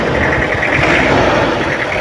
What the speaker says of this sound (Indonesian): Coba sedikit saya naikkan RPM-nya